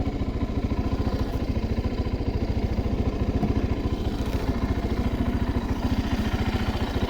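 A Geon Light 250 motorcycle idles in a snowy forest, its engine putting out a steady, rapid, even thumping at close range for the whole stretch, with no voices.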